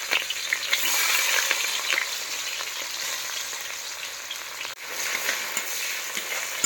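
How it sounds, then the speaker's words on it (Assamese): Onions frying in hot oil for a fish curry give a steady, bright sizzle with soft scraping from stirring, close and continuous, a brief dip near the end, no voices. "মাছ বনাবৰ কাৰণে পিঁয়াজ আগতে ফ্ৰাই কৰি ল'লোঁ"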